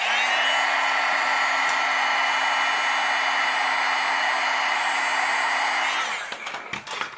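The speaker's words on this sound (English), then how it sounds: "And then you take your heat gun and melt it." Heat gun melting embossing powder on a handmade Christmas card, a steady, loud blowing whine held close for about six seconds before it cuts off, followed by a few small handling knocks.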